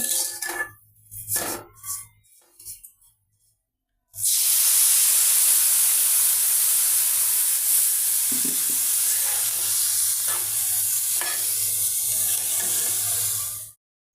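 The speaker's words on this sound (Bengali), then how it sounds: "সেমাইটা আমার ভাজা হয়ে গেছে এখন সামান্য পানি দিয়ে দেবো" Water poured into a pan of fried vermicelli sets off a loud, sustained hiss and sizzle that runs for about ten seconds before cutting off, following a few quieter kitchen clinks and stirring sounds.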